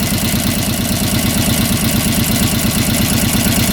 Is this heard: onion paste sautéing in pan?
no